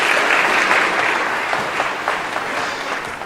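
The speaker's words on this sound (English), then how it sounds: "you can give him a round of applause." Steady, dense applause from a sizable congregation in a reverberant church, Christ Church High Harrogate, sustained throughout with no talking over it.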